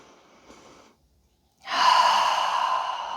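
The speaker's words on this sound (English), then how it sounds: "Inhale by the nose. Open mouth, exhale, let it go." Open-mouth exhale during a yoga breathing exercise, a soft breath first, a short silence, then a long loud breathy sigh of air pushed out through the mouth, close and alone.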